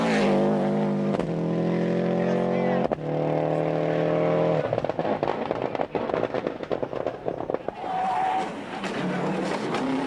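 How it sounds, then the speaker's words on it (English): A rally car driven flat out on a 1995 Catalunya Rally stage, engine note climbing and dropping through hard gear changes, loud and close, with bursts of gravelly crackle and pops as it pushes on. "The young Scot with Derek Ringer on the pace notes is driving an absolute stormer."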